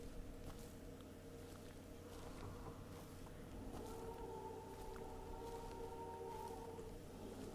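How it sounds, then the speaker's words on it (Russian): Long wavering wolf-like howl tones rising out of a dark ambient drone in a Yakut horror video game, entering midway and holding steady, moderately loud, with no talk over them. "Вау, что звуки какие-то"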